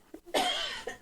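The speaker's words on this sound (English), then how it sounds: "I really need to cough bad." A person coughs in a small, stuffy podcast studio, one harsh, close cough after a brief throat noise, followed by faint small sounds, no speech.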